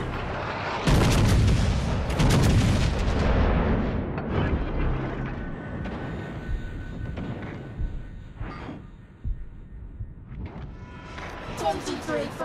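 Warship artillery in the naval game World of Warships: Legends booms in heavy repeated salvos at the start, then fades into lighter scattered shots and mechanical clanks.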